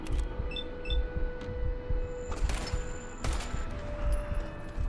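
Gunfire in the video game Fallout 4, a rapid burst of shots crackling over a low rumbling battle backdrop, with sharp louder cracks standing out near the middle.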